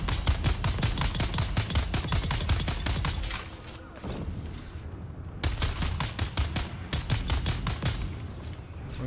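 Rapid automatic gunfire in a video game, loud and near, fired in long bursts with a short pause in the middle before the shooting resumes.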